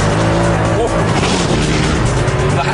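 A Gumpert Apollo supercar driven hard with manual gear changes gives a loud, close, continuous engine roar with rising and falling tones and a harsh, saturated edge.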